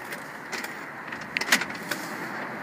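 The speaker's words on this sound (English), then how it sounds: "Closing up the rear doors." Rear doors of a blue 2008 Honda Odyssey minivan close, with faint motor whir and light clicks and latch knocks in quiet surroundings, no talk.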